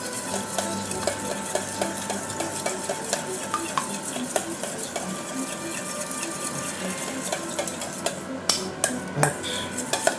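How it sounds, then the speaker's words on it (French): Ingredients for omurice being stirred in a pan, with a steady run of scraping and clinking utensil taps against the pan, close and fairly quiet, with no talking. "On va mélanger tout ça."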